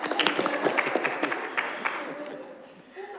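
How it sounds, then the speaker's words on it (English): Attendees at a committee meeting give a burst of dense applause that thins and fades over a few seconds, ending with a voice beginning to talk. "No, I think now we can applaud."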